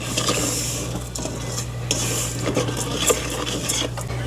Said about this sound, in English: I'm going to put that in here and get those browned up